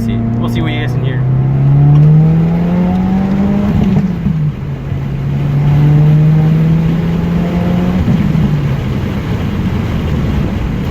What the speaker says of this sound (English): I thought you guys might want to hear some turbo noises